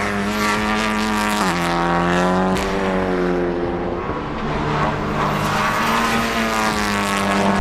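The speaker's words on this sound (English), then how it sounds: "This is the Honda Civic Type R." Honda Civic Type R front-wheel-drive hot hatch, FL5 generation, at full throttle on a race track: a loud, continuous engine note rising and falling through the gears, with a brief dip mid-run and no talk.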